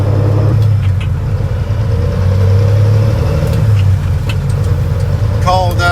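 A Caterpillar ACERT diesel engine in a truck runs at a steady, loud idle with a deep droning rumble that carries throughout, and a brief higher rattle comes near the end.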